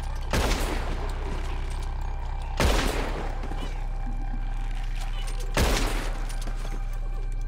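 Three heavy gunshots blast from Red Dead Redemption II gunplay, spaced a couple of seconds apart over a steady low rumble, each with a sharp crack and a long decaying tail.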